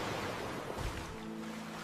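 Ocean waves wash in a steady, continuous roar of surf, fairly close, with no voices.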